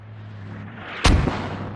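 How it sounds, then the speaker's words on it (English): Mortar rounds strike a position in a military shooter video game, one sharp, loud explosive impact followed by a rumbling tail after a low steady background drone. "now they got mortars coming in on that position"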